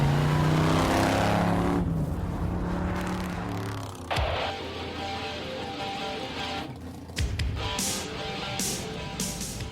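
A custom Texas pickup's V8 roars loudly through its exhaust pipes, a deep revving rumble that swells and shifts, with sharp bursts and blips as the throttle changes; no one speaks.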